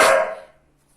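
A single loud dog bark close by indoors at home, ringing out briefly and fading into quiet.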